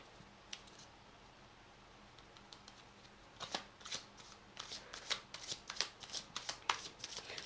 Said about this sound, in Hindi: तो पहले मैं कार्ड्स को पुल कर लेती हूँ